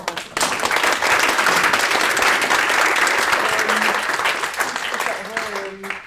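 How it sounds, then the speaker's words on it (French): Sustained audience applause at an Acfas 2025 conference session, thanking the presenters, dense clapping from a crowd that fills nearly the whole stretch before tapering, with a voice speaking briefly near the end. "On va d'abord applaudir les présentateurs."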